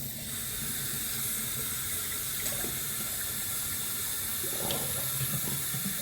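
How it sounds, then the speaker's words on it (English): Tap water running steadily into a bathroom sink for a post-shave rinse, a constant close rush of flowing water with slight shifts in splash, with no voices. "Let's let some water out. Get some not so hot water."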